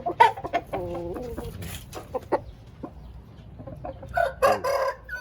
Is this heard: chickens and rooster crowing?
yes